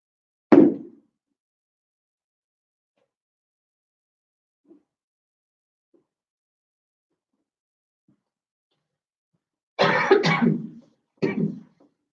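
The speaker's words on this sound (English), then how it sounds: "Sorry that I'm coughing a lot." A single cough sounds near the start, then near silence apart from faint small noises, before a burst of two or three more coughs toward the end.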